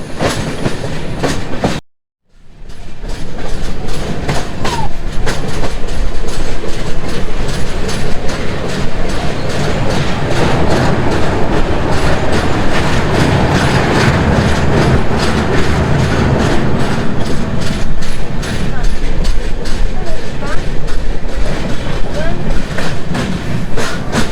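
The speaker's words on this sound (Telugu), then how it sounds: "ఈ సౌండ్లు చాలా మంచి అనిపిస్తాయి ట్రైన్ జర్నీలో" Falaknuma Express train rolling over rails on the Howrah–Secunderabad route near Cuttack, Odisha, a loud, continuous close clickety-clack of wheels on track joints after a brief drop-out near the start.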